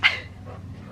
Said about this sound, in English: the dogs freak out when they hear the bite